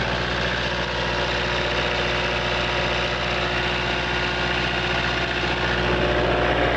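A 1993 Prevost Le Mirage coach bus engine idles steadily, a close, even diesel rumble with a low hum that holds unchanged throughout, with no rattles or squeaks and no talking.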